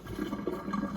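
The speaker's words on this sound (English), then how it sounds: "Like what I'm doing, I'm adding some more water" Water poured into dough for Jamaican dumplings, a steady close splash and trickle with a brief louder gush at the end, no talk.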